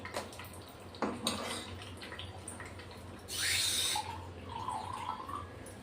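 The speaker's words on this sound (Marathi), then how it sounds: "तर त्याच्यात अजून थोडं पाणी टाकणार आहे" Water is poured from a glass into a thick gram flour and curd mixture for kadhi, a brief splashing pour standing out from quiet kitchen background with a few soft clinks.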